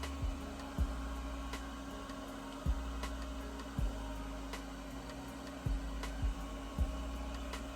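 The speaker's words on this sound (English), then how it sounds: "And now I'm gonna go sit under the dryer." A hood hair dryer runs with a steady, constant whir throughout, punctuated by occasional brief low thumps and clicks nearby; no one speaks.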